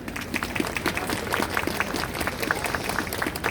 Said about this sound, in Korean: 큰 격려 박수 한 번 부탁드리겠습니다